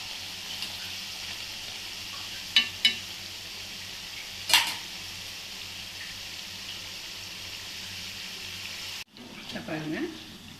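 Kalakala snack deep frying in oil, a soft steady bubbling sizzle with a few sharp clicks, then a sudden break followed by louder stirring and clatter near the end.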